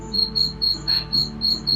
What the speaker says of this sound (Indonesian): Suara jangkrik ya khas banget. Stridulasi membawa kenangan tersendiri dan menciptakan seperti suasana malam yang